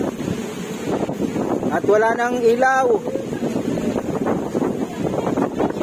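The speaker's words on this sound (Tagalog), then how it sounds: "So, lakas ng hangin." Strong wind from Super Typhoon Karding roars steadily against the microphone in Cabanatuan, Philippines, at night, a constant loud rushing with someone speaking briefly over it.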